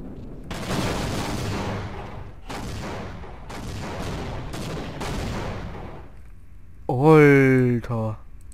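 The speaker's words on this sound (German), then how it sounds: "Ist eigentlich explodiert." Explosions and heavy blasts from the Half-Life video game burst out in four or five loud, roaring, sharp-edged waves, each quickly fading. A voice follows briefly at the end.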